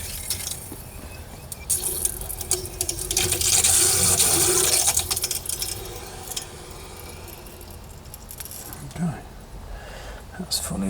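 Water rushes through newly fitted pipework as a valve is opened, a steady hiss that swells loudly in the middle and then settles, with a few clanks and handling noises near the end.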